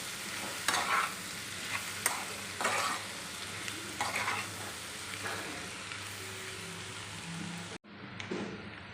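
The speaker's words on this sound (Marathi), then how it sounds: "जे उकडलेले बटाटे आहे आणि बटाटे टाकून भाजी छान मिक्स करून घ्यायची आहे" Boiled potatoes being stirred into a vegetable mixture in a pan, a steady sizzle with repeated scraping strokes of a spoon, close and fairly loud, with a brief dropout near the end.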